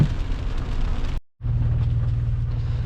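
Steady rain drums on the roof and glass of an F150 pickup truck, heard from inside the cab as a dense, loud broadband wash, with a brief dropout partway before a low engine rumble joins under it.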